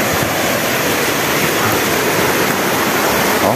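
A steady, loud roar of rushing water from a nearby waterfall at Sertão do Cacau, Camburi, São Sebastião, Brazil, broad and constant throughout with no voices.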